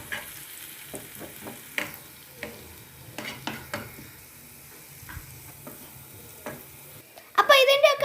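A spoon scrapes and clinks in a pan of Hyderabad-style brinjal curry as asafoetida and spices are stirred in, irregular close strokes over a soft sizzle, ending in a brief louder clatter.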